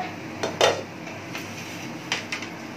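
A plate handled while an omelette is served onto it, giving a few light clinks and knocks of crockery, one sharper clatter early and two softer taps near the end, with no talk.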